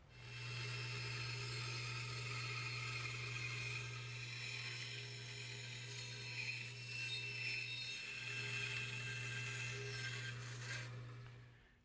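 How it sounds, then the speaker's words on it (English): A bandsaw rough-cuts a profile in walnut for a dovetailed blanket chest: a steady motor hum under a continuous rasping cut, close and even for the whole stretch, then winding down at the end. "Now our first step is to go ahead and rough cut the profile on our bandsaw."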